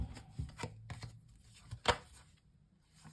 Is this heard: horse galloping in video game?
no